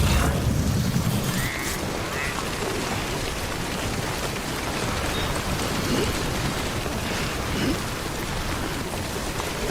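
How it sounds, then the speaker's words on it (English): Rain begins falling in the video game Death Stranding, a dense, steady hiss of rainfall with a low rumble at the start, continuous and fairly even throughout. "Oh, rain's starting."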